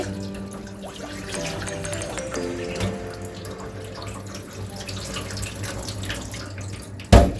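Tap water runs steadily into a sink while cut chicken is rinsed under it, ending with a sharp clatter.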